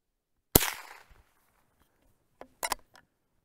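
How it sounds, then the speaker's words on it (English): A Cooey Model 39 single-shot .22 rifle fired outdoors: one sharp crack with a short echoing tail, then after a pause a couple of quicker, quieter snaps, heard close with no talking. "So I'm just gonna pop off a few more rounds here just to see."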